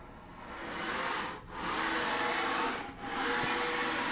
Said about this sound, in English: Now the machine is running at max speed, which is about 15 meters per minute.